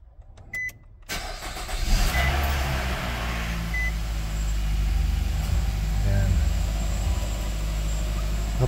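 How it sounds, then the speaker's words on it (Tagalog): A car engine starts after a few quiet beeps, then settles into a steady low idle rumble that stays loud and close, with voices talking over it. "Tapos start natin ang engine."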